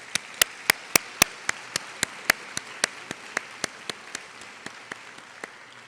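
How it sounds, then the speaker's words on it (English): Sparse, evenly spaced hand claps ring out at a white coat ceremony for a dental college's graduating class, about twenty sharp, separate claps over six seconds that slowly fade, with no voices. "Let's give them a round of applause."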